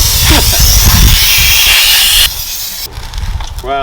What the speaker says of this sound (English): Anyway, brake cleaner.